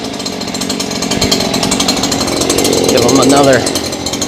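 Stihl KM94R two-stroke engine running on a 100:1 oil mix, a loud steady buzzing whine with a harsh rattling edge that swells slightly near the end, while someone speaks briefly over it.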